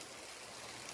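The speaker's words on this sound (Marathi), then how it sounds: "जोरात पाणी पडू राहिलंय ना पत्र्यांवरून." Heavy rain pours off metal roof sheets in a village downpour, a steady, dense rush of water running continuously and fairly faint throughout.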